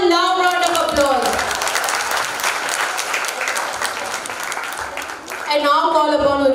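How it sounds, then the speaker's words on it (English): A school audience at an annual exhibition bursts into a loud, sustained round of applause, dense clapping filling the hall, with speech heard briefly at the start and end. "Please give them a loud round of applause"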